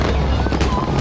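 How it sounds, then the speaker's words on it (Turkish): Fireworks during a Turkish lantern procession celebration crackle and boom densely and loudly in a continuous barrage, with crowd noise mixed in. "Türkiye'nin birçok noktasında Fener Alayı yürüyüşü ve havai fişek gösterileri vardı."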